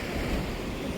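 Sea waves surge and crash steadily on a Lakshadweep island shore, a dense, continuous wash of surf with wind buffeting the microphone and no voices.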